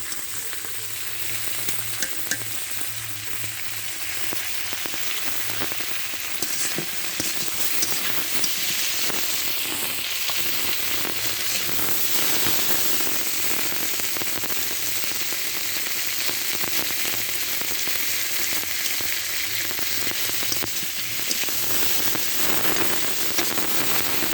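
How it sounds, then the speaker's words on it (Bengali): Tengra fish frying in oil for a Bengali fish curry gives a loud, steady, rain-like sizzle and crackle that runs unbroken for the whole stretch, with no voices over it. "যে মাছ ভেজে উঠে নিলাম"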